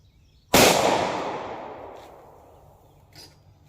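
A Taurus 605 revolver fires a single Winchester 110 grain .38 Special Silvertip round, one sharp, loud crack that rings and decays over about two seconds, followed by faint rustles.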